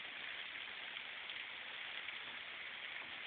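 Steady rain falls during a summer storm near a house beside a tall Douglas fir, a continuous even hiss of drops with no talking.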